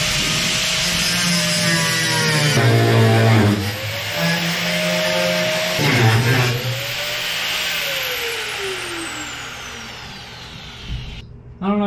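Power tool cutting into a rivet head on a box truck roll-up door, a loud grinding whine that dips and rises in pitch as the cut bites and eases, with a harsh bite-in around the middle and an abrupt stop at the end.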